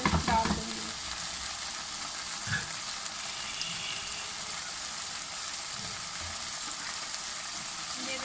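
Marinated chicken frying in a thick masala for chicken do pyaza, a steady close sizzle with a few stirring scrapes and clatters near the start, continuing evenly without talk.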